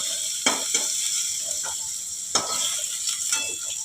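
Whole lote fish fry lightly in oil with turmeric, giving a continuous close sizzle broken by occasional scraping stirs of a spatula in the pan.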